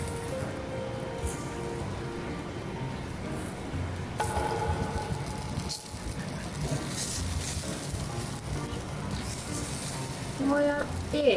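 Fish grilling to build a ramen broth, a continuous sizzle and crackle with a person talking over it.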